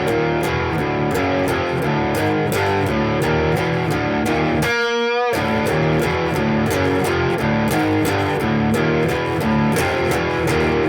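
Distorted electric guitar plays two alternating riff phrases from a song back to back, loud and driving, with a brief ringing pause midway before the pattern resumes.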